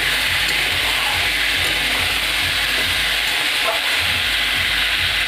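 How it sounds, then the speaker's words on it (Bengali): Food fried with salt in a pan sizzles loudly and steadily throughout, a close, continuous hiss with no talking over it. "নুন দিয়ে এটাকে ভালো করে ভাজতে হবে কিছুক্ষণ"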